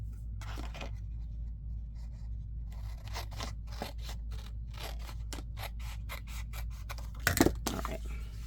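Scissors trimming paper for a junk journal, a series of crisp close snips and scraping cuts in an irregular rhythm over a low steady hum, with one louder crunch near the end.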